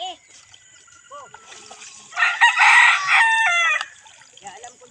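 A rooster gives one loud, drawn-out crow about halfway through, preceded by a few short chirps against a quiet background.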